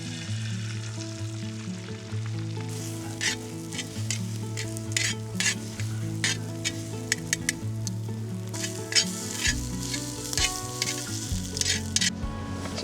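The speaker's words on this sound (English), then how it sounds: "you use the fat from the bacon and you put in all the eggs, the whisked eggs here" Whisked eggs frying in bacon fat in a pan over an outdoor fire, a steady close sizzle with repeated scraping and stirring strokes throughout.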